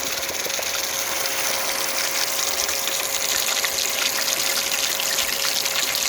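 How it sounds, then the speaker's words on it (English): Water flows steadily from a pump during a drought, a continuous rushing, gushing wash with a faint mechanical hum underneath, with no talk. "And the water is flowing."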